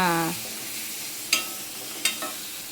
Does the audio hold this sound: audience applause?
no